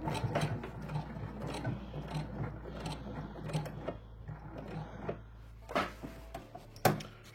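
A sewing machine runs a seam on a fabric tote bag with a steady, close mechanical whirr and rapid needle clatter, then stops near the end, leaving a few handling clicks and bumps.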